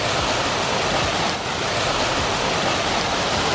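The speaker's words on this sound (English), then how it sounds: "hey, I got a waterfall in the front yard here." A backyard rock waterfall in a South Dakota front yard, built around a huge boulder, splashes into a basin with pump vaults below, giving a loud, steady, unbroken rush of falling water with no voices.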